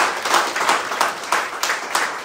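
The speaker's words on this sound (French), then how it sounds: "Applaudissons" A church congregation claps together in a steady rhythm after a prayer, the beats landing at an even pace and fairly close.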